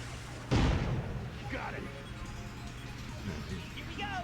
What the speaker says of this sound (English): Lasers and cannons. They gave the rail just cool sound effects.